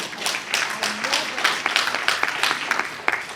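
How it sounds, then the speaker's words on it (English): An audience at a Juneteenth celebration claps in an uneven patter of individual hand claps, fairly close and moderately loud, with faint talk mixed in. "I want that to sink in, and you should clap for that"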